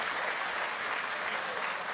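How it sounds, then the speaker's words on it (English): A boxing or fight crowd applauds both fighters after the bout, a steady dense wash of clapping held at even loudness throughout with no talk over it. "They certainly deserve your applause"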